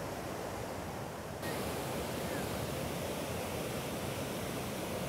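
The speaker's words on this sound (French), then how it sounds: "Ah, ben on arrive à la chute." The waterfall on the Rivière du Diable roars as a dense, constant broadband rush of falling water, loud and close, growing fuller after a brief moment and continuing unbroken, with no talking.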